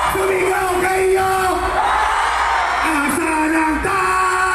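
A crowd at a political rally in Pampanga shouts, whoops and cheers loudly and continuously, with a sustained yelling voice rising above the mass of noise.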